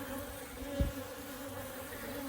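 Honeybees on a hive brood frame crowded with nurse bees, giving off a steady close buzzing hum with a brief thump partway through; no talking.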